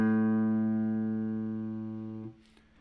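A single plucked open A on a guitar's fifth string, in tune, sustains evenly with strong overtones, up close and alone, then is damped abruptly just past two seconds, leaving a faint brief noise.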